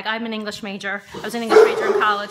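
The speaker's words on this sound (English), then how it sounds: "That's my dog." A dog barks a few times close by, the sharp yips overlapping with someone talking steadily over them.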